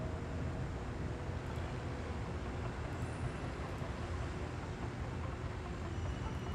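A passenger train rolls along rails in the SimCity 4 city-building game, giving a continuous, even rumble of wheels and carriages at low level with no pauses.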